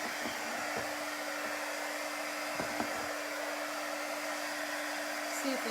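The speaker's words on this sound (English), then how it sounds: "I'm going to dry it with my dryer" A hair dryer blows steadily over a chalk craft project, a continuous airy whir with a constant hum, close and moderately quiet throughout, with a few soft knocks.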